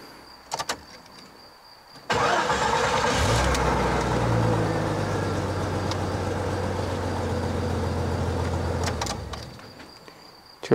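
A Jeep Cherokee with a four-speed automatic and high mileage starts up after a short quiet pause, catching abruptly and settling into a steady, loud idle rumble close by, which fades down near the end.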